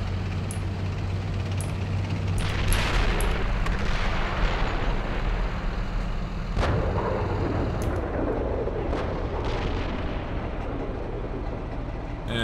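Artillery indirect fire in the Steel Beasts tank simulation game: a steady rumbling barrage with several sharp distant booms and bursts rolling over continuous battlefield noise, no voices.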